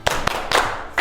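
A class claps together in a short rhythmic pattern, giving four crisp, separate hand claps in quick succession inside a classroom.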